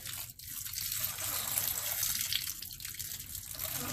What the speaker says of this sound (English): this has drained this entire tank of water that fast